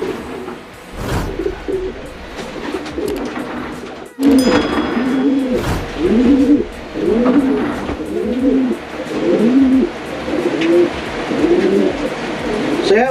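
Close, repeated rolling coos from pigeons in a racing pigeon loft, several birds calling in overlapping phrases with soft rustling and a faint thump partway through, no talk.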